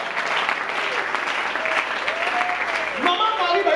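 A church congregation applauds steadily throughout, a dense continuous wash of clapping with voices mixed in and a singing voice rising near the end.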